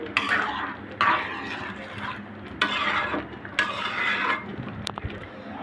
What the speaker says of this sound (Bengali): এখন আমি নেড়ে চেড়ে মিশিয়ে নিব তালের সাথে।